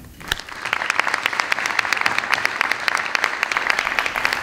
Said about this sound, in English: Please give every one of those individuals and teams a round of applause.